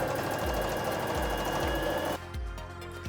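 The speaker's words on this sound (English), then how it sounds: "We're actually just going to go straight into sewing these two outer edges." A sewing machine stitching the outer edges of harem pants runs in a fast, steady mechanical whir with a regular pulsing beat, close and loud, then drops to a lighter, slower hum near the end.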